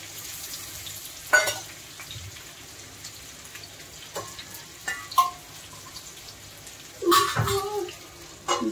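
Masala eggplant (vaangi) with tomatoes is sautéed in a pan, with occasional short scraping and sizzling bursts of stirring over a low, faint background hiss, the loudest near the end.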